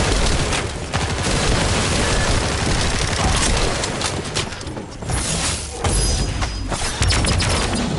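Relentless gunfire in The First Descendant, a dense loud barrage of overlapping shots and booms with only brief lulls, shotgun blasts mixed into the chaotic combat noise.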